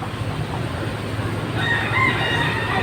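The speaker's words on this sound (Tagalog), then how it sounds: "Manok ko na lang ang natira." Chickens cluck and murmur nearby over a steady rumbling background, with a brief higher call near the end.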